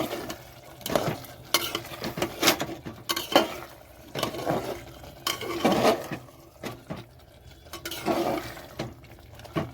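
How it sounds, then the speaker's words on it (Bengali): Cut potatoes tipped into a pan of mutton liver, with clattering, scraping and stirring bursts against the pan over a faint sizzle, in irregular close knocks. "এখানে দিয়ে দিচ্ছি কেটে রাখা আলু।"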